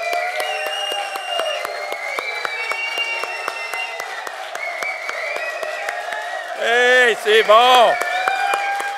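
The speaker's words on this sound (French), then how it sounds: "On va faire une ovation, un standing ovation aux femmes, puis on va leur donner une main d'appréciation très fort." A crowd gives the women a standing ovation, with steady clapping throughout and a voice briefly calling out over the applause near the end.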